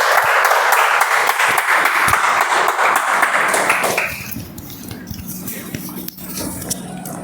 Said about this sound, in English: Can I invite Toastmaster Abhishek? Please give a big round of applause.